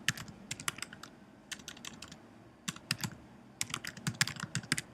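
Someone typing an email address on a computer keyboard while setting up a YouTube channel: close, crisp key clicks come in quick irregular bursts separated by short pauses.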